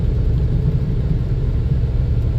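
An all-wheel-drive Chrysler Town & Country minivan with a flat-spotted tire rolls along, heard from inside as a steady, loud low rumble of road and engine noise.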